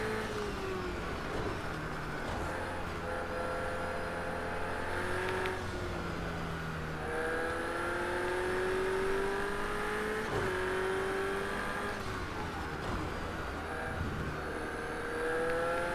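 Racing-game car engine running steadily on a smooth track, its pitch climbing and dropping through repeated gear shifts and revs, loud and continuous across the whole stretch with no talk.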